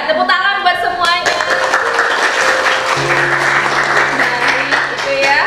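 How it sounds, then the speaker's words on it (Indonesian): A classroom of students claps together in dense, steady applause that runs the whole stretch, with voices and a few musical tones mixed in underneath. "tepuk tangan buat semuanya"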